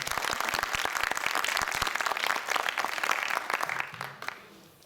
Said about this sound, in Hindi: बहुत स्वागत है रानी जी, जोरदार तालियां स्वागत।